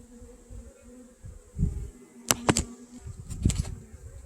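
Saskatraz honey bees hum softly in a nuc as brood frames are lifted out during a move into single boxes, with a few sharp clicks and knocks of frame handling over the quiet buzzing.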